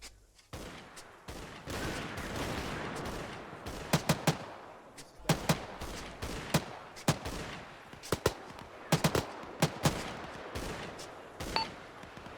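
Scattered distant gunshots in the military game Arma 3, single cracks and short bursts popping at irregular intervals over a low rumbling battlefield background, with no talk.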